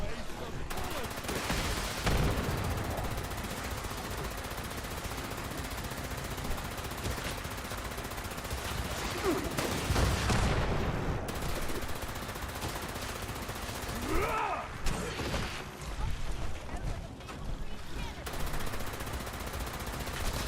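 Gunfire in Fallout 76 during a Pioneer Scouts Challenge event, sharp shots and bursts scattered over a busy game soundscape, with someone talking at times.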